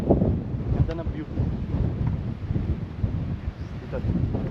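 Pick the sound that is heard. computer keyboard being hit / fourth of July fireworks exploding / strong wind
strong wind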